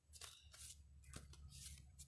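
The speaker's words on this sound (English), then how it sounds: "So let me give that a quick little shuffle" A deck of oracle cards is shuffled at close range, giving a few quick papery riffles and slides across about two seconds, fairly quiet, with no voices.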